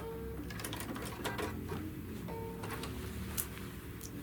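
A sewing machine stitching through a quilt panel, a steady close mechanical whir with fast rhythmic needle ticking running continuously throughout, with no one talking.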